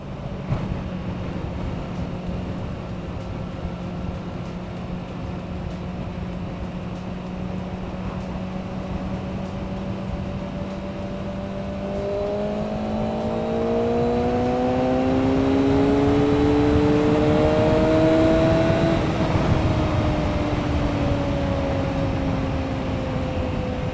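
A Kawasaki ZX-6R sport motorcycle engine drones steadily, then rises in pitch as it revs up through gears before settling, heard from close by.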